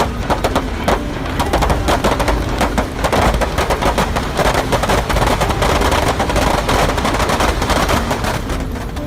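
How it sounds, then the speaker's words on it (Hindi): Firecrackers burst inside a burning Ravana effigy, loud rapid crackling bangs in dense irregular volleys that continue without pause, close and with no talk over them. "इसके बाद वो लाइटर को पुतले के ऊपर फेंक देता है, जिससे रावण के पुतले में आग लग जाती है और उसके अंदर के सारे पटाखे फूटने लगते हैं।"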